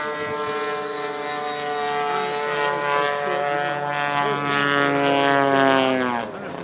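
A Freewing 90mm F-4 Phantom RC jet in a QF-4B target drone scheme makes a slow pass with gear down and full flaps at an RC event, giving a loud, sustained ducted-fan whine whose pitch drifts and then drops as it passes.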